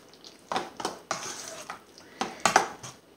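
Small cut pieces of salmon are stirred in a pan, with a run of close scraping strokes and utensil knocks against the metal at an irregular rhythm.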